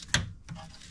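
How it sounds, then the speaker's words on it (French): A 14 mm wrench turns against the upper brake caliper bolt on a Tesla Model 3, giving one sharp, close metallic click followed by a fainter second click and light mechanical rattle. "je prends une clé de 14. Je vais venir desserrer légèrement celui du haut."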